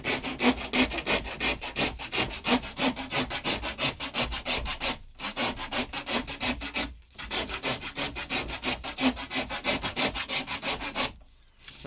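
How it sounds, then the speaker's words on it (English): A rat tail rasp files a groove into a wooden longbow in quick, rhythmic back-and-forth strokes, close and loud, pausing briefly a few times. "I'm using a rat tail rasp here"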